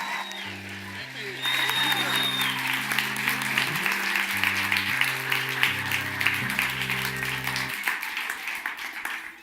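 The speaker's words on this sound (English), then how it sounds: "Let's give one more big round of applause for our studio volunteers." A live radio-show studio audience claps for the volunteers, a dense round of applause rising after a second and continuing under sustained organ chords.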